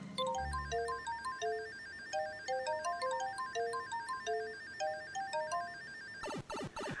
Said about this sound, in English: thinking one of my phones was actually ringing